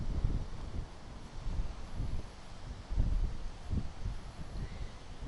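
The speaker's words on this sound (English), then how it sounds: "Oh, strong wind." Strong wind outdoors buffeting the microphone in uneven low gusts that swell and fade for several seconds, with no voices.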